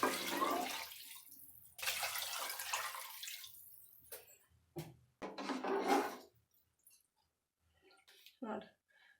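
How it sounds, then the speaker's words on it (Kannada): Water is poured into a pot of rice for a sprouted horse gram rice bath, coming in several separate bursts of splashing pours between stretches of talk. "ಇದ್ರ ಎರಡರಷ್ಟು ನೀರು ಹಾಕೋತಾ ಇದ್ದೀನಿ"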